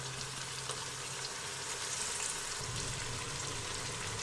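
Garlic, ginger and tomatoes fry in a pan for a spinach, cauliflower and meat curry, giving a steady, close, even sizzle that runs without pause and with no voices.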